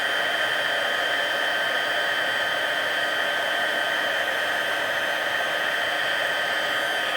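A heat tool blows steadily and loudly, melting clear embossing powder on a stamped card image; a constant whooshing hiss with no talk throughout.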